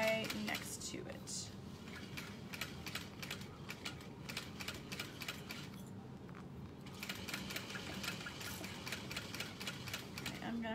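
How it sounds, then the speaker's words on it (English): Sewing machine stitching alongside the piping on a satchel, a quiet, rapid, even mechanical chatter running continuously with slight pauses and speed changes, soft and close. "I'm just sewing right next to that piping"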